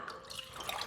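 Water poured into a jar for a quick jalapeño pickle brine, a continuous soft splashing trickle close by, steady for the whole second with no talk.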